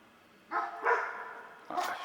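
A dog being walked by a neighbour barks outside, a couple of fairly loud yaps followed by a sharper bark after a pause, heard through the room with no speech over them.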